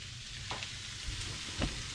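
Beef cooking in a hot pan while water goes in, giving a steady sizzle and frying hiss with a few stirring scrapes, moderately close and continuous, with no talk.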